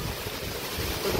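Strong typhoon wind roars steadily outdoors as a storm batters trees and plants, a dense, constant broadband rush with low buffeting gusts on the microphone throughout, no voices.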